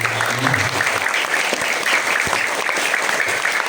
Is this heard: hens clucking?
no